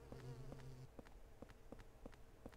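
Mosquitoes in the horror game Silent Hill 4: The Room whine with an insistent insect buzz, set against a steady rhythmic pulsing pattern that repeats roughly every half second, fairly faint and with no voices.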